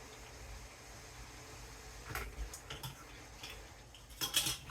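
Metal lid and screw ring being set onto a quart canning jar of peaches, giving a few light clinks and scrapes close by, with a brighter rattle near the end.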